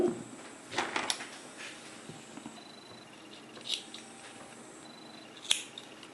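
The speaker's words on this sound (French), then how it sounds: "je vais couper l'excédent de coton" Scissors cut away excess cotton wick on a Vaporshark Vortice vape dripper, giving a few crisp close snips spaced apart, the sharpest near the start and end, in a quiet room with no talking.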